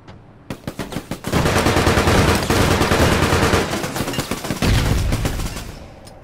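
In the APB Reloaded video game, a few separate shots crack out, then give way to a long, loud burst of rapid automatic gunfire that fills most of the stretch before stopping abruptly.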